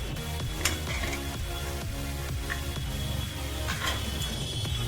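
Oil crackles and sizzles steadily in a hot pan as spices are tempered for pav bhaji, with occasional metallic clinks of a utensil against the cookware.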